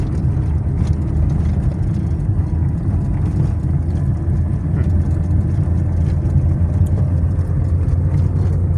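A car engine hums steadily and loudly from inside the cabin during a beginner's driving lesson, a constant low drone with slight swells as the throttle is pressed, no clear voices.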